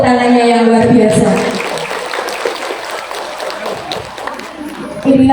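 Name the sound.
applause for the Majelis Taklim Darul Naim group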